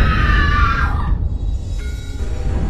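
A girl screams from upstairs in a horror film scene, a high, wavering cry that rises and then slides down, followed by a short fainter call, all set over a constant low rumbling room tone.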